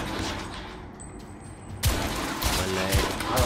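Gunfire from The Order: 1886 video game: a dense, noisy burst of rapid shots erupts partway through after a quieter stretch of game ambience, loud and continuing to the end.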